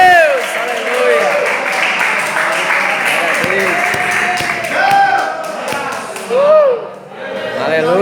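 Congregation applauding during a church service, a steady wash of clapping under sung or shouted praise, with brief tonal chimes and scattered thumps through the clip.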